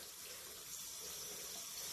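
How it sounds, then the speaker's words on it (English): Water runs steadily from a tap over a bar of soap at a sink, making a close, continuous splashing rush with no voices. "I'm going to go ahead and just put the bar of soap under the water"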